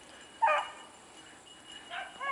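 Tricolor beagle hound, a four- or five-year-old male, barking while running a rabbit outdoors: a few distant, separate yelping bays with quiet gaps between them.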